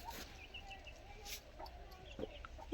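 Scattered soft clucks from a hen against a quiet outdoor background, with a few brief sharper noises near the end.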